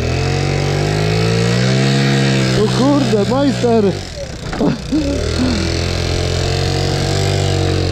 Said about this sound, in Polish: To jest taki skuter enduro